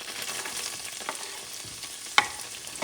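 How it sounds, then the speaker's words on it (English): Chopped yellow onion frying in a pan for Russian buckwheat with beef, a steady close sizzle with soft stirring scrapes and one sharp clink near the end, no voices. "Now I'm going to add the yellow onion"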